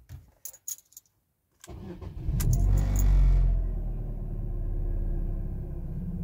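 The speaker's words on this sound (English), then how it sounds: "Please run the engine and keep it idle." A Ford Focus Mk1 engine cranks and starts after some key jangling, then settles into a steady, close, low idle rumble with no talking.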